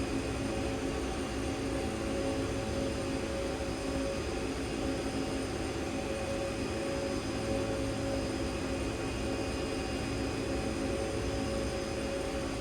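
Game-simulated CRJ-200 jet climbing after takeoff, a constant broadband engine roar with steady whining tones, even and unbroken throughout, no voices.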